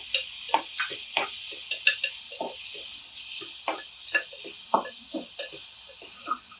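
Finely chopped onions fry in oil in a pan under a constant hiss, with repeated scraping strokes of a spoon stirring them, near and steady, with no voices.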